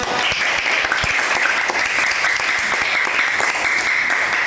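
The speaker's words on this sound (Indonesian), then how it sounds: "Tepuk tangan untuk kelompok Dinda" Classmates in a grade-five classroom clap for a student group about to present, a steady dense patter of many hands held at an even level throughout, close by and with no talk over it.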